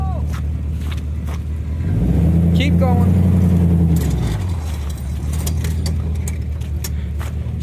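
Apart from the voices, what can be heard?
Chevy driving with a tire noise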